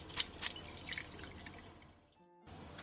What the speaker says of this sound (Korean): 다 삶은 소면은 바로 찬물에 빨래 빨듯이 빨아 물기를 충분히 빼놔주세요